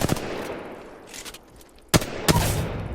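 Rapid automatic gunfire from a first-person shooter video game, with short fusillade bursts that include two sharp loud volleys near the end.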